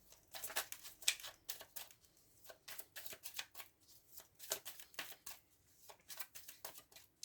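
Tarot deck shuffled by hand: a rhythmic series of crisp riffling card bursts, close and quiet, with short pauses between passes.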